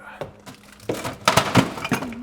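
A glass olive bottle clinks and knocks against other items as it is put back into a home refrigerator, a few sharp, close glassy taps clustered together amid soft handling noise.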